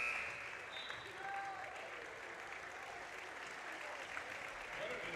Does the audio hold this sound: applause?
yes